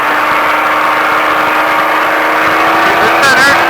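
A Baja off-road truck's engine roars steadily while accelerating, loud and close in the cabin throughout, with a voice speaking over it.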